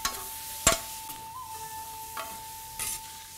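Asparagus and mixed vegetables stir-fried for yaki yasai, with a soft steady sizzle, a few sharp spatula clacks against the pan, and a thin steady tone running underneath.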